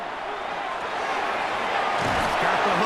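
Steady roar of a football stadium crowd in Madden NFL 26, a broad continuous wash of cheering that swells slightly toward the end, with faint game commentary layered underneath.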